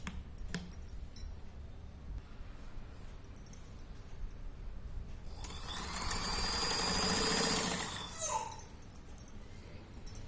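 A sewing machine stitches strips onto a three-year-old girl's petticoat, running in one steady whirring burst of a couple of seconds midway, with quiet handling sounds before and after.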